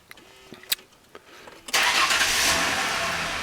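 A Mazda car engine cranks and fires at close range, a few short clicks and knocks first, then a sudden catch that settles into a steady, loud running idle that continues to the end.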